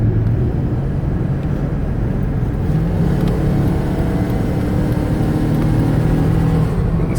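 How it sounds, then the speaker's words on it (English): Engine and road noise from a mobility van cruising on the highway at about 65 to 70 mph, a steady low rumble that holds unbroken with no voices. "let you hear the engine run strong and the transmission shift"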